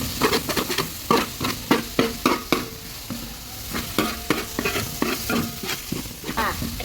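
Chopped tomatoes and onions stirred and sautéed in a hot pan, with a steady sizzle broken by repeated scraping strokes of a spoon at an irregular rhythm, close and clear with no talking.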